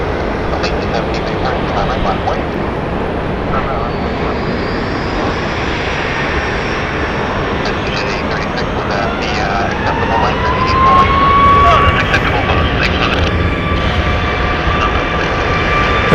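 A United airliner arriving from Los Angeles at Phoenix Sky Harbor Airport, a loud, steady broadband engine roar with a faint whine rising partway through, heard alone without talk.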